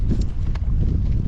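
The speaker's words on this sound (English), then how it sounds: "we got a lot of wind today" Strong wind buffets the microphone on a striped bass fishing ledge, making a steady, loud low rumble with a few faint clicks over the top.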